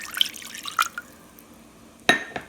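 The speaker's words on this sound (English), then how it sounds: "Next, I'll be adding the water." Water poured into a bowl of peanut butter, a few light splashy drips early on, then one sharper, louder splash near the end, heard up close with no talking.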